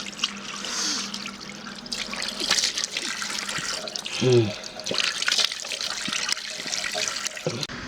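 Cold tap water running into a sink during face and hand washing at a roadside stop in India, a steady splashing trickle with a few nearby clatters.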